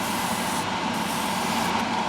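An airbrush hisses steadily while spraying gloss black paint onto Tamiya 1/6 Yamaha YZ250 model parts, a continuous close airy spray with slight dips in intensity and no talking.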